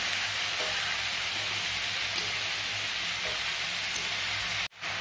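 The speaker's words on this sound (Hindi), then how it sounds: "अब मैं इसमें बारीक कटी हुई टमाटर में डाल दूँगी।" Finely chopped tomatoes sizzling in a hot pan, a steady close frying hiss with light crackles throughout, ending in a sudden brief dropout.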